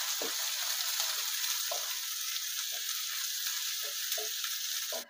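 Onion and garlic sizzle steadily in hot oil with mustard seeds, a continuous bright frying hiss with occasional soft pops and stirring clicks, close and alone without talk.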